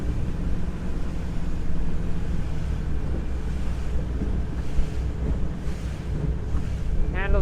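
A 2013 Bayliner 195 runabout with a Mercruiser 4.3 engine runs over open water crossing its own wake, its engine drone buried under loud wind buffeting and splashing hull noise, with a brief rising whine near the end.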